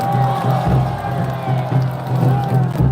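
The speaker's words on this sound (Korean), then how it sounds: "우리 기자분들 위해 박수 한번 쳐주세요" An outdoor rally crowd claps and cheers in a dense continuous roar, with pulsing low loudspeaker tones running underneath.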